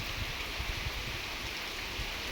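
Steady rain falls in a broad, even hiss with soft low patters, continuous and close, with no voices.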